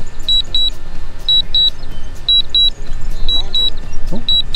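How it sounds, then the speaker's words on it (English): DJI drone remote controller beeping in paired high tones repeated about once a second during a precision landing test, steady and clear over an outdoor rumble of wind and motor noise. "On the controller, it's beeping away."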